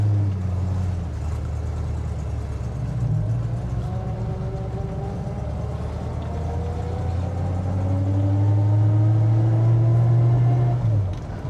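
A 1968 Ford Mustang GT California Special pulling away, a loud, deep V8 rumble rising steadily in pitch as it accelerates through the gears, heard close and continuous without talking.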